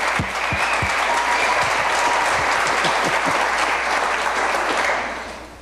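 A crowd at a campaign kick-off event at Trezzi Farm applauds a candidate's parents, loud dense clapping with a few sharp nearby claps, sustained for several seconds before tapering off at the end.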